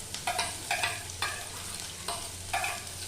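Onions are stirred in a frying pan with green chillies, producing a steady sizzle with several scraping stir strokes at a regular rhythm, close and clear, with no talking.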